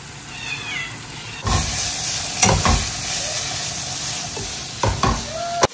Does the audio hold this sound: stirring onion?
yes